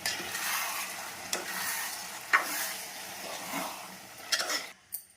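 Tomato, potato and chana dal curry being stirred in a pan: a soft steady sizzle with several sharp scrapes and clicks of the spoon against the metal, the last few near the end before it goes quiet.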